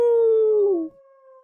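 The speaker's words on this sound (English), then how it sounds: "The howl of an animal." An animal howl plays as a sound effect in a visual novel game, a single loud, high, sustained cry that bends downward and fades within about a second.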